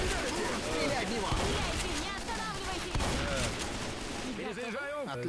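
Rapid bursts of video game gunfire in Left 4 Dead 2 crackle amid a chaotic battle soundscape, with voices shouting over the shots.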